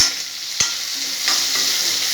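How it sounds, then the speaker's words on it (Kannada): Sliced onions fry in hot oil with curry leaves in a home kitchen pan, a steady close sizzle that crackles throughout, broken by a spoon scraping and stirring, with no talking. "ಒಂದು 2 ನಿಮಿಷ ಇದು ಎಣ್ಣೆಲಿ ಸ್ವಲ್ಪ ಈರುಳ್ಳಿ ಸ್ವಲ್ಪ ಬಡ್ತೀನಿ."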